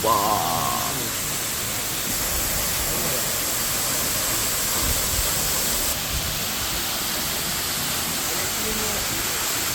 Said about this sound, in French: Cette cascade là, elle a l'air un peu incroyablement incroyable.